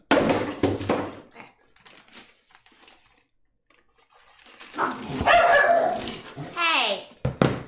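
A dog barks indoors in a few sharp bursts at the start and again near the end, with someone talking over and between the barks.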